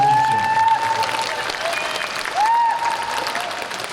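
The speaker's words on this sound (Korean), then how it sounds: "뜨거운 박수 한번 다시 보내주십시오" An audience claps warmly at the opening ceremony of a Bucheon disability organizations' festival, a sustained, even round of applause with a whistling tone sounding twice over it.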